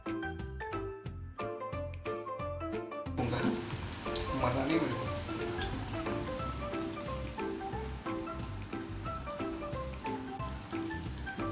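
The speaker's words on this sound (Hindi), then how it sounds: "तेल पूरा गर्म हो चुका है, धीरे से डालना हमें।" Onion pakora dropped into hot oil, a steady bubbling sizzle that swells after the first few seconds and runs continuously, with voices talking over it.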